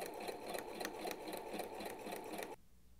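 A sewing machine back stitching a seam on a Simplicity 2172 steampunk coat whirs in a close, rapid pulsing run, then cuts off abruptly, leaving quiet room tone.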